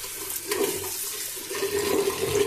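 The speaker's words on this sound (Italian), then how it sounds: "diamo una sciacquata all'esterno della confezione" Running water from a tap rinses the outside of a wrapped shaving soap package, a steady splashing hiss that swells and dips as the pack is turned under the stream, close and alone.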